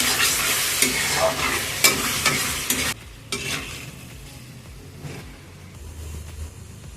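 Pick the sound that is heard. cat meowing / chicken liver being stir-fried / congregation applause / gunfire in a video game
chicken liver being stir-fried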